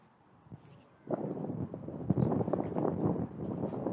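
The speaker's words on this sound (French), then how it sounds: "Le vent se lève un peu" Wind gusts across an outdoor padel court during a professional tournament match, first as faint rumbling, then as louder, continuous buffeting against the microphone.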